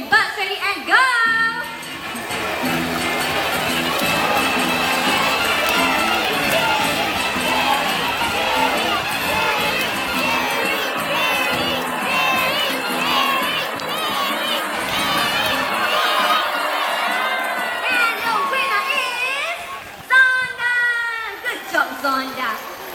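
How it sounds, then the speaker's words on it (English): A crowd of supporters at a bird show in Jurong Bird Park cheers and shouts continuously for birds racing across a table, children's excited voices prominent, loud and sustained with speech mixed in before fading near the end. "Now supporters, remember to cheer for your birds."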